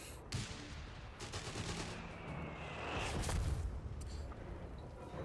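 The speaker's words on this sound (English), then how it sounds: "AA gun returning the favor though. I should say flak gun here." A flak gun firing in the Company of Heroes 3 strategy game, with a rapid burst of gunfire and rumbling blasts mixed with other battle noise at moderate loudness.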